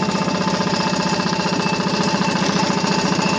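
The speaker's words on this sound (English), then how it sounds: "which is a clanging noise, is a recoil" A running 1940 Waterwitch 3/4 hp air-cooled outboard motor chatters close and loud with a fast, steady knocking pulse, its recoil starter clanging along in rhythm.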